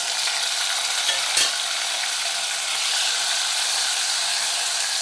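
Curry leaves and other ingredients sautéing in a pan for a spicy Tamil citron tamarind curry, a steady close sizzle with a brief stir or scrape partway through and no talking.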